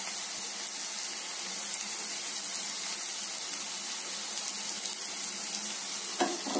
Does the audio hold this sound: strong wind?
no